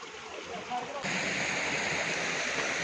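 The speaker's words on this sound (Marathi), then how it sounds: "ऐकत आहे हा धबधबा छोटा छान वाटतो" A small waterfall on a stream near Urmodi dam pours steadily nearby, a constant rushing hiss of water that swells louder after the first second.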